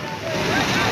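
Floodwater rushing through the flooded Balkhu vegetable market in Kathmandu after a night of rain, a loud, continuous broadband roar with no breaks.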